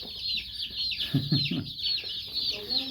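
A brooder of about a hundred baby chicks cheeps constantly in high, busy peeps close to the microphone, while a few lower clucking sounds come through briefly in the middle.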